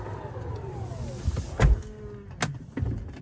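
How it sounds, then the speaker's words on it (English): Powered door of a 2020 Tesla Model X closing automatically: a smooth whirring motor hum that rises and falls, then a firm thump as it shuts, followed by a couple of softer clunks of the latch. "you push the button, door opens, you sit down, push the button, and you'll see this piece kind of close."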